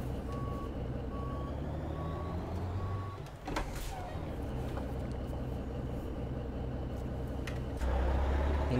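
A heavy Mack truck hauling a 75-ton mining truck trailer reverses in American Truck Simulator. Evenly spaced reversing beeps sound over a low diesel rumble, then a sharp air-brake hiss follows and the engine note swells near the end.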